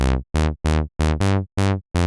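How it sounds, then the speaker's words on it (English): A WavTool Wavetable Synth bass on default settings plays seven short, buzzy, harmonically rich notes in a quick, even sequence, each with a bright attack that darkens fast as the filter closes; loud, close and alone. "With these default settings, we've already got a simple bass sound"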